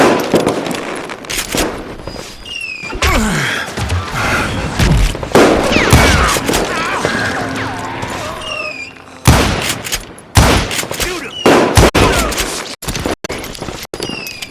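Gunfire in the Call of Juarez Gunslinger video game: loud, close bursts of rapid shots and booming blasts in clusters, with brief pauses and sharp ricochet-like whines between volleys.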